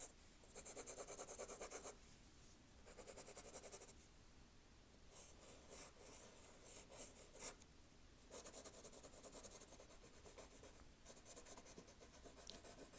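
Soft, close scratching of a pencil on paper comes in several bursts of strokes separated by short pauses, quiet and intimate.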